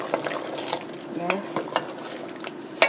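A spoon stirs a smoked okra sauce in a cooking pot, making soft, continuous scraping and swishing with a few louder knocks against the pot over a faint background sizzle.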